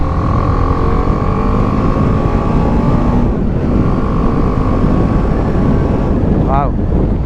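A BMW G 310 GS motorcycle on a test drive gives a steady engine drone under heavy wind rush, loud and continuous, with a brief dip in pitch partway through as it shifts.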